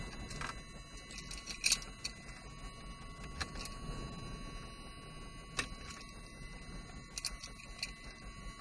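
Keys jangle and click into the ignition of a Piper Cherokee 140 light aircraft in a quiet cockpit, a few short metallic taps and rattles scattered over several seconds with faint background hum.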